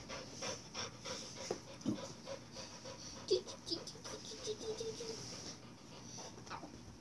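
A dog pants softly and rapidly, close by and faint, with a few light breaths and small background noises.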